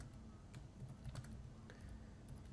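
Quiet, continuous tapping of keys on a computer keyboard, a rapid irregular patter of soft clicks with a few sharper strikes, heard close and alone.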